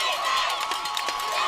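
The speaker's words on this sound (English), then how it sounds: "The crowd's on their feet." Crowd noise at a high school football game between East Central and Poplarville, a steady roar of many voices close and continuous, with cheering rising and falling briefly.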